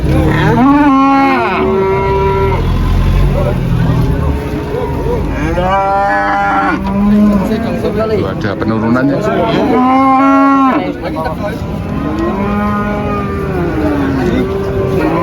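Limousin cattle, polled purebred bulls, low repeatedly at a bull section of a morning cattle market, several loud drawn-out moos overlapping near and farther off amid crowd murmur and someone talking.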